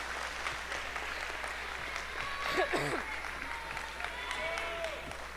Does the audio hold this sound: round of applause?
yes